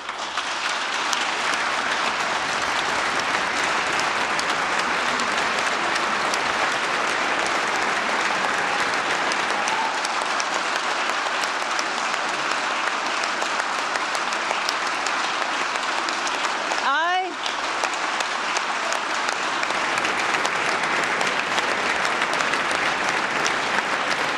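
Steady, dense audience applause fills a hall during the 2018 Rhode Island State of the State address, a continuous roar of clapping from a large crowd lasting over twenty seconds with no letup.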